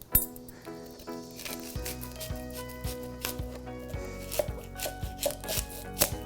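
Knife cutting through a red onion on a board, a series of close, evenly spaced dull thuds and crisp slicing crunches, with a brief rustle of handling.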